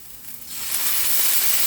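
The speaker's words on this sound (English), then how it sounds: "we're going to add 1 tablespoon of red balsamic vinegar" Red balsamic vinegar hits a hot pan of caramelized onions, setting off a loud, steady sizzle that swells within the first second and then holds as a bright, close hiss.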